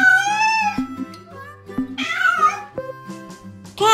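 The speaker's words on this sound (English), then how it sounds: "Cat." A domestic cat meows several times in a row, drawn-out and tonal with rising and falling pitch, fairly close and loud, over a quiet background with no talking.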